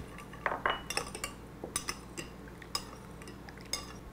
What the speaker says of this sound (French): J'y ajoute de la sauce harissa. Et je mélange comme il faut.